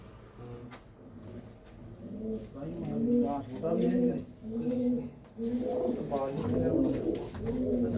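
Pigeons kept by a fancier coo in soft, repeated throaty bursts close by, several birds overlapping in a steady rhythm, with faint background sounds and no clear talk.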